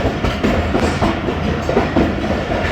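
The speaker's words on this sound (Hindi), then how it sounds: "देखें यहाँ पे ट्रेन स्लो तो हो गई है लेकिन रुकेगी नहीं।" The Jaffar Express runs on rails while slowing down on a foggy winter run. The clickety-clack of the wheels is loud and rhythmic, and the carriage rumbles steadily up close.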